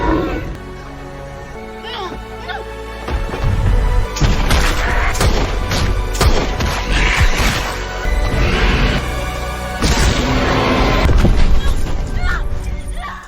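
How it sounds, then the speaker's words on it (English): Gunfire in a movie scene, loud irregular bursts of shots and booms close by, mixed with shouting voices and scene effects over about thirteen seconds. "As the gunfire stopped"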